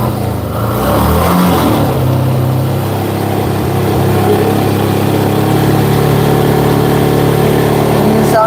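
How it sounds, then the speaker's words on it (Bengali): A motorcycle engine idles close by in a steady, even throbbing drone that holds at one level with only slight wavering for several seconds. "গাড়ির ইঞ্জিন সাউন্ডটা ফ্রেশ আছে"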